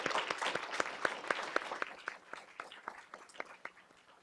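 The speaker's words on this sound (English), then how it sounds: "Let's give our panelists a round of applause." Audience applause for a discussion panel, a sparse, fairly faint patter of clapping with distinct individual claps standing out, gradually thinning over a few seconds.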